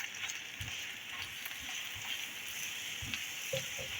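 Paratha frying in ghee on a hot pan, a steady soft sizzle and crackle running throughout with occasional low taps from handling.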